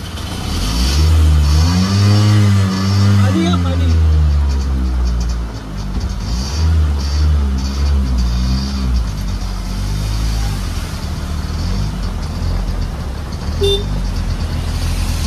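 A car engine turns over and settles into a loud, close drone, rising briefly as it revs and pulls away, then holding a steady rumble as it drives, with no voices.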